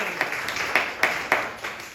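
A handful of sharp, scattered claps ring out at a New York City comedy show. The separate hand strikes come irregularly over a faint room background, with no voices.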